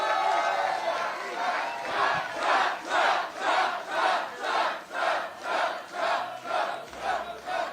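A large crowd at a Trump rally in Rochester, New Hampshire roars loudly as Kari Lake rouses them, the noise swelling into a steady rhythmic chant with regular pulses.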